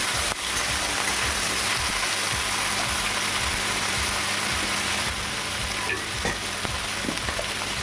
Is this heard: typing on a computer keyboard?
no